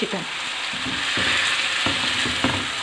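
Steady sizzling of ginger and garlic sautéing in a hot pan, with a few faint stirring scrapes over the continuous hiss.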